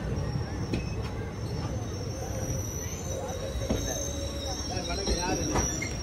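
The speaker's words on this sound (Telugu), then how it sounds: "ఈ ట్రైన్ వచ్చేసి తిరుపతి ఎంజీఆర్ చెన్నై సెంట్రల్ సప్తగిరి ఎక్స్ప్రెస్" The Tirupati–Chennai Central Saptagiri Express passes close by in a loud, continuous rail rumble, with metallic wheel squeal and a few sharp clanks rising over the roar.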